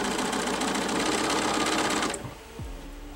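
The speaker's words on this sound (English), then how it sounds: "And we just sew this down." A sewing machine runs steadily and loudly for about two seconds while stitching down a woven quilt block, then stops, leaving a soft mechanical click and hum.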